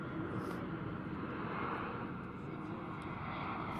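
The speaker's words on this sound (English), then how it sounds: "it's actually planes taking off and landing" Planes take off and land at Hamburg airport beside a youth football pitch, producing a loud, steady jet roar that fills the scene without a break.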